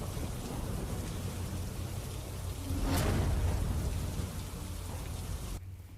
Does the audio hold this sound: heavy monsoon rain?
yes